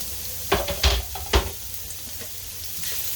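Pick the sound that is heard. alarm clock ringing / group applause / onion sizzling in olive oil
onion sizzling in olive oil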